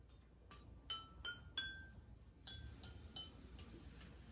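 Tapping water-filled glasses of a water xylophone with a plastic spoon gives about ten soft, dull clinks in an uneven run, quiet and muted over a faint background hiss.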